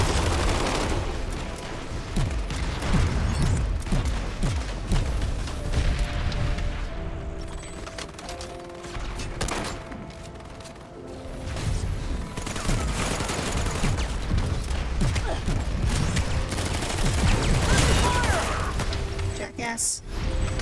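Dense gunfire and grenade blasts from a Planetside 2 infantry battle, continuous bursts and booms throughout, with shouted voices over the fighting.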